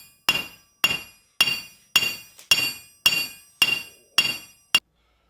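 A hammer strikes hot metal on the end of an anvil in nine evenly spaced, ringing blows, each a sharp metallic clang with a short decay, loud and close, and no talking.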